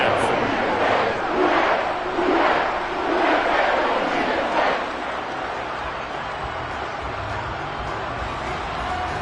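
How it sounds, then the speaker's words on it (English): Stadium crowd in the Madden football video game roaring steadily, with swelling cheers through the first half of the stretch before settling into a constant, fairly loud background din. "And the crowd is on here in this first half."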